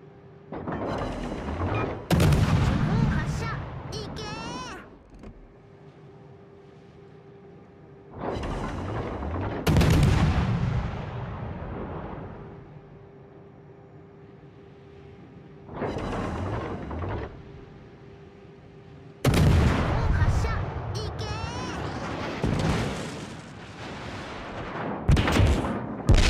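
Heavy battleship main guns fire in World of Warships: Legends in four separate booming salvos, each a loud blast with a long rumbling tail, separated by quieter stretches of low engine hum.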